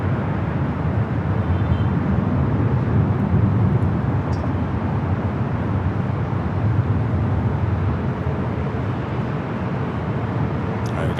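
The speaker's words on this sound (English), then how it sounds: "Got that 777 touching down, that 25 at left" A Boeing 777 jet airliner touching down on runway 25 left at LAX, heard as a continuous broad roar that stays steady and loud throughout, with no talk.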